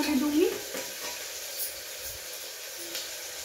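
Soybean chunks with green chillies fry and sizzle in a pan for veg biryani, with a steady close hiss, a brief stirring scrape near the start and no one speaking.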